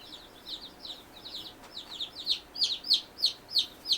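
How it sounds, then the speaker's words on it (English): Baby chicks peep loudly and repeatedly in a brooder under a heater, their high chirps coming close together and growing stronger and more insistent toward the end. No one is speaking. "Who's peeping loudly?"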